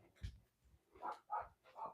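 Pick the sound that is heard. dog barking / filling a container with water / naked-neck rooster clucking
dog barking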